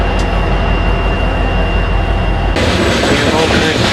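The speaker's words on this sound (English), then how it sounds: "a real long double-stack container train rolling through" A long double-stack container freight train rolls through Gallup, a steady loud broadband rumble of passing cars throughout, shifting to a brighter, harsher roar near the end as the cars continue by close at hand.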